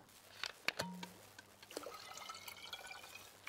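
Water gurgles and drips while a pot is filled in the survival game Sons of the Forest, a soft liquid burble with a few sharper plops, fairly quiet and steady.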